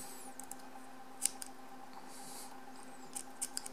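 Small scissors snip carded cotton whiskers on a vape coil deck, a few faint, sharp, isolated clicks spread over a quiet background.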